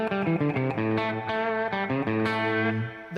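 An electric guitar lick played through a Fender Deluxe amp with a little reverb, a quick run of bright, sustained notes up close, with no talking.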